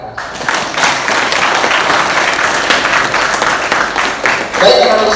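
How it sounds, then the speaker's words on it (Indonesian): Audience applause at an indoor seminar on drug dangers, a steady wash of many hands clapping for about five seconds, loud and close, with a few voices rising near the end. "Silakan tepuk tangan rekan."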